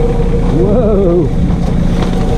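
A New Holland Workmaster 25 tractor engine runs steadily in medium-range first gear out in the woods, a loud continuous drone with a brief wavering rise in pitch midway, recorded close with wind noise over it.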